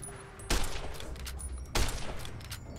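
Gunfire in the Fallout: New Vegas video game, with two sharp shots about a second apart over a steady background of game ambience.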